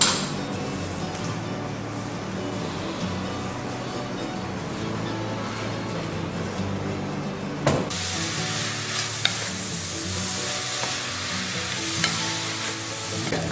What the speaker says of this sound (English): I'm going to sweat those onions with a little bit of butter. On medium heat